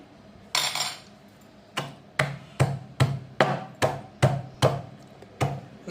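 Raw tamarind pods pounded with salt and turmeric for a year-keeping tamarind chutney, heard as a steady series of about nine sharp, loud thuds at a regular rhythm, close by with no talk.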